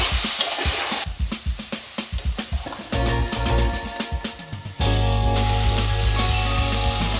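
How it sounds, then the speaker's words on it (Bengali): Ridge gourd and potatoes frying in oil in a wok, a steady loud sizzle with repeated scraping and stirring strokes of a spatula, the hiss growing denser and continuous toward the end. "পেঁচা আলুর সঙ্গে ঝিঙ্গেটা ভালো করে ভেজে নিচ্ছি"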